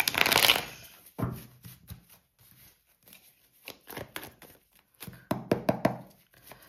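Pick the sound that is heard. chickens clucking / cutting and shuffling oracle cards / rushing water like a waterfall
cutting and shuffling oracle cards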